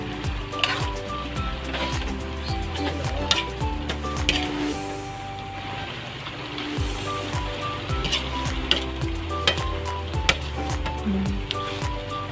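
Chicharon stirring and frying in a pan for a ginisang kangkong with black beans dish, a steady sizzle with scattered utensil clinks and scrapes against the pan throughout, close and fairly loud, no talking.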